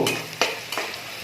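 A fragrant tempering of cumin, coriander seeds, chillies, garlic and onion sizzles in a pan for tomato rasam, crackling close and loud with two quick stirring scrapes over the frying hiss.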